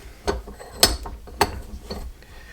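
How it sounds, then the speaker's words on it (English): A vise cranking down on a 4G64 timing belt auto tensioner gives three sharp metallic ratcheting clicks, spaced about half a second apart, close and clear in a quiet workshop. "So to push this down, we're just gonna need a vise. So I'm gonna put just something here to protect the nose of it, and we're gonna tighten this down."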